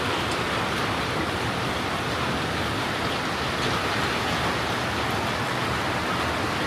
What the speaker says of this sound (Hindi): ओले पड़ रहे हैं। देखो नीचे देख।